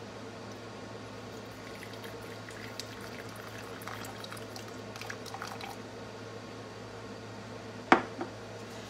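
A liquid is poured into a plastic bottle fly trap, giving a faint, steady trickle that runs for several seconds and ends with a sharp knock; no talking.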